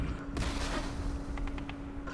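Gunfire from the Campaign Series Vietnam war game at Dien Bien Phu, a dense burst of shots with a few quick sharp reports at the end, heard alone at moderate loudness.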